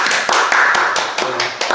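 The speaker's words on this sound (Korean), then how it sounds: "자 한번 환영의 박수 힘차게 하겠습니다." A church congregation claps in welcome for a newly registered family during a Sunday morning service, a few sharp, close claps in an uneven rhythm with brief gaps between them.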